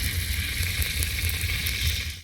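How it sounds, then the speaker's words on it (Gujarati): Onions dropped into hot oil for masala Maggi, a loud, dense, continuous sizzle heard up close with no talking. "તો તેલ નાખ્યા બાદ આપણે પછી નાખી દઈશું ડુંગળી"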